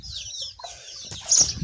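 Domestic chickens kept at home, clucking and squawking in short bursts at close range, with a flurry of wing flapping and a sharper cry near the end; no one speaks.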